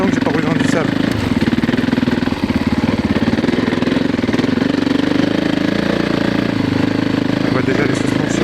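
A 450 dirt bike engine runs steadily while riding through sand, a loud, continuous mid-pitched drone with a throbbing, knocking pulse that holds through the whole stretch and sits close up.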